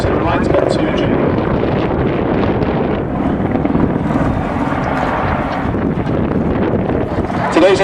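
Apache attack helicopter at the Duxford D-Day airshow performing steep diving turns, a loud continuous rotor and turbine roar mixed with heavy wind buffeting on the microphone, with a commentator talking over it.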